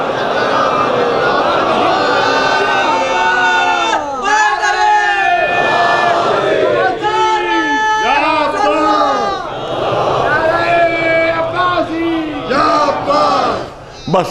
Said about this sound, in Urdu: ایک سلوات بھیج دے بلند آواز سے محمد